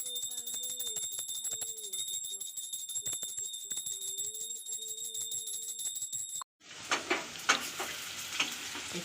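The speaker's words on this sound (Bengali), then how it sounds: "ফ্রেঞ্চ ফ্রাই করছো" Potatoes for homemade french fries fry in hot oil, a loud steady sizzle that jumps up sharply partway through as more pieces go in, with faint voices and tones in the background before.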